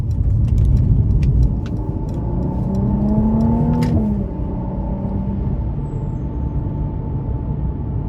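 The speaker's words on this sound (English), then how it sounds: "Of course, really fast downshifts." A 2018 Mercedes-Benz C43 AMG sedan engine revs in quick downshift blips, its tone rising and dropping near 4 seconds over steady road and cabin rumble.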